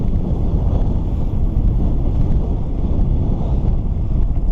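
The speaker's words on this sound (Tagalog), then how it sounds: "malakas ang hangin dito palagi" Strong wind gusting across an open outdoor spot on a bike tour, roaring loudly and steadily against the microphone as a dense low rumble with no one speaking.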